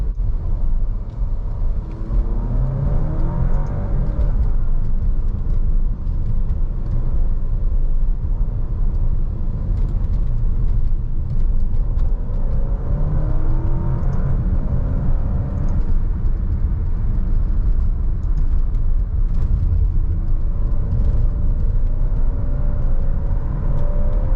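An Alfa Romeo Stelvio Competizione SUV with 280 horsepower accelerating hard from 0 to 60, heard from inside as a steady, loud engine roar and road rumble, rising through the gears for over twenty seconds, with no talking.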